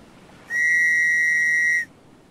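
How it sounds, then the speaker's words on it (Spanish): A single whistle is blown in the survival game Stranded Deep, one loud, steady, shrill tone held for well over a second, starting and stopping abruptly against quiet background hiss. "Un silbato."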